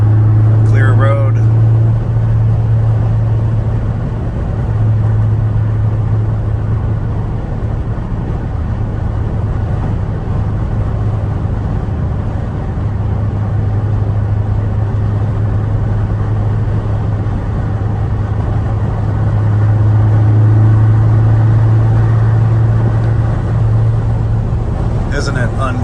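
A 2013 Ford Focus ST3 cruises in fifth gear on a curving road, its steady engine drone and road rumble loud and constant inside the cabin while the driver talks.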